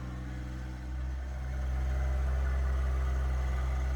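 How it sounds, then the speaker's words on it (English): Small compact tractor engine idling and running steadily in a garden, a low continuous drone that dips briefly and then settles louder and even. "I have one more piece in the garden I need to get with this tractor before I turn it off."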